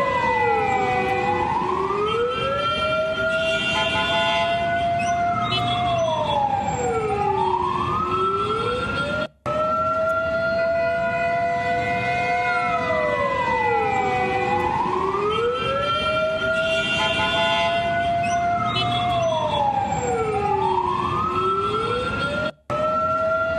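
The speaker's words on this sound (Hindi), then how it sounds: "सड़कों पर दौड़ती हुई एम्बुलेंस आपको नजर आएगी और वही सायरन आपको नजर सुनाई पड़ेगा।" Ambulance sirens wail through streets in Lebanon, rising and falling in long repeating sweeps, loud and continuous, with steady traffic noise underneath and two brief cuts.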